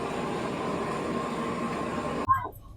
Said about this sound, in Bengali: এখন ট্রেনটি প্ল্যাটফর্মে দিল।